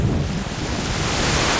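Sea waves and wind at a beach make a steady, loud wash of broadband noise, with the rush of surf and wind buffeting the microphone throughout.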